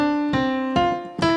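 A piano plays the first phrase of the Happy Birthday melody: three clear, close notes struck in slow succession, each ringing on with bright harmonics, with no voices.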